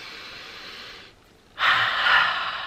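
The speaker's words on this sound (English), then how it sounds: "I just want you to sit here for a moment and take a deep breath with me." A slow, deep breath close to the microphone: a long airy exhale, a short pause, then a louder sustained inhale, with no talking.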